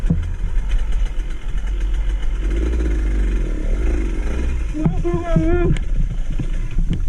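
A motorcycle engine rumbles close by at a low, steady idle with slight swells in revs, while voices talk briefly over it near the end.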